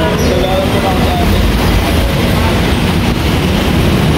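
Loud, continuous rumble and roar of an MRT metro train in motion heard from inside, a steady low-frequency drone with rattling, and no distinct voices.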